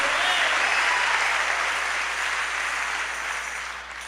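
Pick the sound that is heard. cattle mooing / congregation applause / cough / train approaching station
congregation applause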